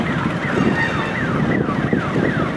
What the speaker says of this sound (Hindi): हाँ ये हाईवे पे तो एम्बुलेंस का साउंड ही ज़्यादा आ रहा था यार